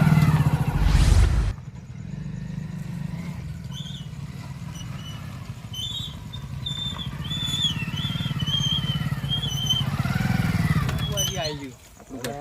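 A motorcycle is ridden along, its engine a steady mid-level drone throughout while people talk over it.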